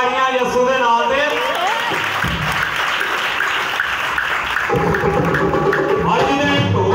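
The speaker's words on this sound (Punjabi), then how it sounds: "ਮਿਲ ਕੇ ਸਾਰੇ ਮਾਰੋ ਤਾੜੀਆਂ" A crowd claps steadily in time with a Punjabi Christian hymn, the applause blending with singing voices and music throughout.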